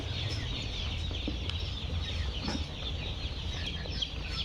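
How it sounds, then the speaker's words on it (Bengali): Khaki Campbell ducklings at a duck farm give a dense, continuous chorus of high peeping calls, overlapping and fairly close, with no talking. "দেখুন অরিজিনাল খাকি ক্যাম্বেল হাঁসের বাচ্চা"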